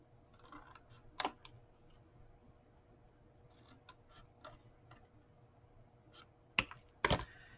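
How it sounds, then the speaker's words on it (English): Scissors cutting through a small cardboard box, a few faint snips and clicks with two sharper loud cuts near the end, close up and without talk. "cut from here, where these 2 pieces meet, to the fold up here"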